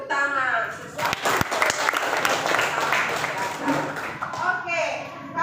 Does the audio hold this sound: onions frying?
no